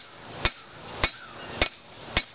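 Hammer forging a red-hot railroad spike into a knife: four sharp, ringing metallic blows struck at an even, steady pace, close and clear over a low background hiss.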